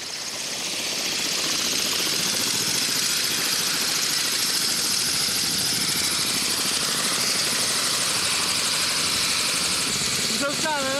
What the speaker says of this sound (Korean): 헬기가 이륙 준비를 시작한다.